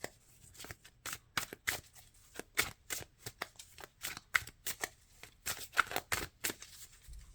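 Tarot cards are shuffled by hand in a quiet room, producing a rapid irregular series of soft papery riffles and slaps, close and fairly faint, with no talk.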